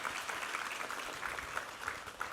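A church congregation claps steadily throughout during a Sunday worship service, a soft, even wash of applause with no voices.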